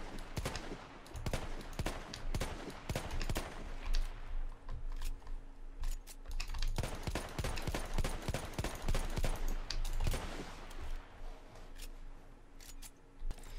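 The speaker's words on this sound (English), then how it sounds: "the second pistol available to this class is the substantially more powerful Mars Automatic Pistol" Mars Automatic Pistol fired in the Battlefield 1 game: a fairly quiet series of sharp, snappy shots in quick irregular bursts with brief gaps, each crack followed by a short mechanical clack.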